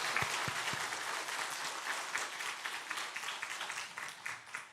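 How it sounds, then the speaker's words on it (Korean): Steady applause from a church congregation at a Korean ordination and retirement service, a dense wash of many hands clapping at even loudness throughout. "박수로 축하해 주시기 바랍니다."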